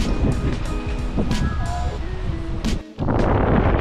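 Strong desert headwind buffets the microphone of a cyclist riding a flat, straight road in Africa, a loud roaring, gusting rush with a brief lull near the end before it surges again.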